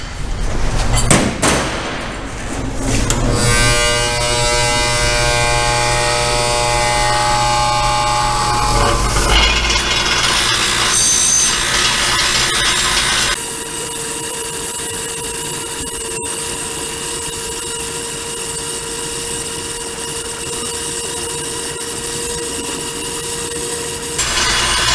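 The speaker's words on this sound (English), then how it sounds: "we will come over here to our bench grinder and use this wheel, which is specifically designed for polishing up this" A bench grinder polishing wheel works a turbo manifold pipe for a Coyote-swapped Fox Body twin-turbo build, giving a loud, continuous whirring grind with scraping contact that steadies into a constant hum partway through.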